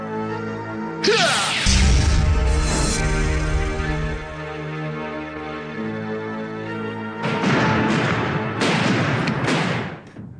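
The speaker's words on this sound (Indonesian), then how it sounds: "mendengar suara ledakan? Ya, keras banget." A loud booming blast with heavy low rumble, then a second burst of roaring noise a few seconds later.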